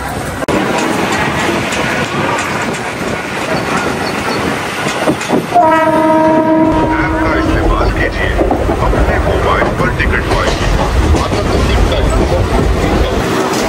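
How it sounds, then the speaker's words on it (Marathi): A suburban train between Neral and Khopoli rumbles past nearby with rattling wheels, and a long horn blast sounds midway, the clatter continuing loudly afterward. "आमची ट्रेन आलेली आहे"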